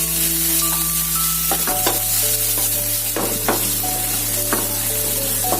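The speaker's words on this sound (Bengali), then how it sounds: "আদা রসুনটা থেকে যখন কাঁচা গন্ধটা চলে যাবে, আমি মিনিট খানেক ভাজবো এটাকে।" Grated ginger, garlic and green chili paste frying in a pan makes a loud, continuous sizzle, with repeated spatula scrapes and stirring strokes over a steady background hum.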